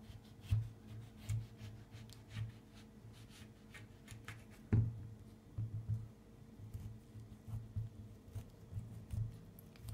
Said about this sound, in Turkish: Limonumuzun üst kısmından keselim.